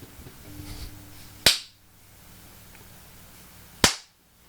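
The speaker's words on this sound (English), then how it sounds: "Now we clap." Two sharp, loud hand claps about two seconds apart, each ringing briefly in a quiet room at the start of a live-streamed podcast, with a faint low hum before the first.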